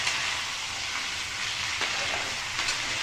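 Food frying in a pan at home gives a steady, fairly quiet sizzling hiss for a few seconds, with a couple of faint clicks and no speech.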